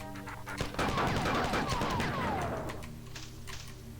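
Gunfire and an enemy blowing up in the first-person shooter Marathon, a rapid burst of loud shots starting with a sharp blast, a sustained roar of explosion and fire, then tapering off over a low steady game drone.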